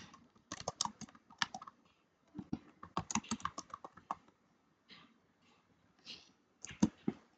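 Computer keyboard typing arrives in quick bursts of clicks separated by short pauses, close and clear with no talking, as a product description is entered on a Facebook listing.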